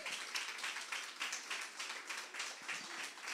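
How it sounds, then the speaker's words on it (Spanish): A church congregation applauds the preacher with steady, dense clapping that carries evenly throughout, moderately distant and fairly quiet, with no speech over it. "Reciba al Señor, reciba al predicador en esta hora con un fuerte aplauso."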